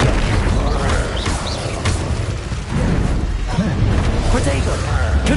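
Incendio fire spell erupting in a Harry Potter video game, a dense, loud roar of booming bursts with crackling blasts that fills the whole stretch without pause.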